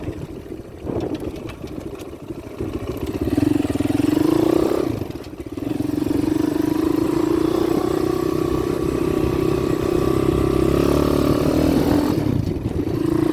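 A Geon 190cc motorcycle cruising in fifth gear at about 4,000 rpm, its engine giving a steady, loud, close drone with a slight rise and dip in pitch, mixed with wind rush and no talking.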